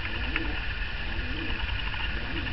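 West of England Tumbler pigeons in a breeding pair cooing around mating, soft repeated low coos in a rolling rhythm, close and moderately loud over a faint background hiss.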